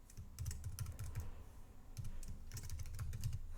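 Clicky, fairly quiet typing on a computer keyboard in short uneven bursts of keystrokes, with a pause in the middle and no talk.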